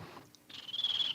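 A high, thin whistling chirp, a person imitating a bird call, starts softly and then holds a steady shrill trill.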